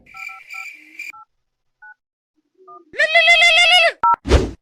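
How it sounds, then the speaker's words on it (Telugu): Touch-tone keypad beeps from a mobile phone as a number is dialled: a few quick DTMF tones, then a burst of ringback-like tone and short beeps, close and clear with no talking. "ఏందో ఫోన్ చేసి అడుగుదాం"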